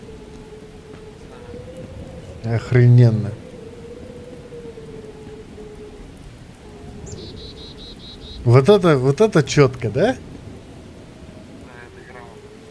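Rain falls steadily during a thunderstorm in the survival game Miscreated, with insects chirping in the background and two loud rumbling thunder bursts, the second longer and rolling; someone talks excitedly between them.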